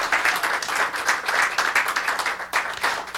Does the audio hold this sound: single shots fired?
no